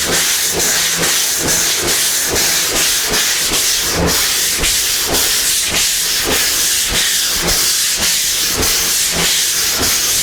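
Primer being block sanded by hand with 80 grit sandpaper, a loud, steady run of rhythmic rasping strokes, about one and a half per second, each a broad scratchy hiss, with no talking.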